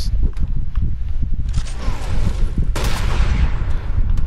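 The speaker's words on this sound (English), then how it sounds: "that's a new nade launcher" A new grenade launcher fires in a video game, with rapid popping shots and muffled gunfire, then a sharp broadband blast near the end, all loud and close over steady background rumble.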